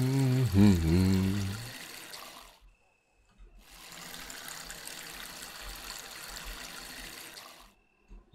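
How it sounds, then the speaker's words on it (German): A watering can pours water over weed plants in Weed Farmer Simulator, a steady soft trickle that runs for a couple of seconds, breaks off briefly, then flows again. A voice is heard at the very start. "Hier brauchen wir nochmal die Gießkanne."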